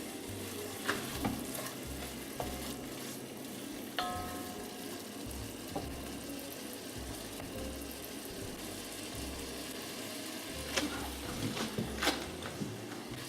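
Ginger, chilies and lemon stirred into a pot for a spicy pepper and tomato soup, a soft constant sizzle with occasional utensil clinks and a low rumble underneath, faint and without talk.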